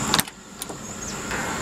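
An electric door window motor in a 1992 Lincoln Town Car, one of several failing door motors, gives a brief close whine with sharp clicks at the start and a steady motor hum through the rest.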